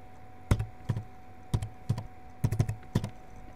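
Keys tapped on a computer keyboard in short bursts, about a dozen crisp clicks with brief pauses, some in quick double strikes, close and fairly quiet with no talking.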